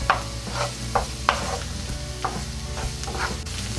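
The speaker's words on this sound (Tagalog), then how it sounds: "Sisimulan ko na pong igisa itong ating bawang at hihintayin lang po natin na medyo mag-golden brown po siya" Garlic sautéing in about two tablespoons of oil, a close steady sizzle broken by repeated sharp spatula scrapes and taps against the pan at an uneven rhythm, no talking.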